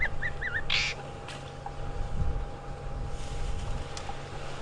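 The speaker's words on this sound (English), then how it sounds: "Oh wow, the forktail Drongo just came and landed right in front of us here." A fork-tailed drongo on a sunset safari drive gives short, warbling, electronic-sounding calls in quick repeated bursts close by, over steady vehicle engine hum.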